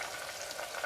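Vegetables (cabbage, peas, green onion and carrot) sauté for pulao in a steady, close hiss of frying that runs evenly through the short moment with no voices.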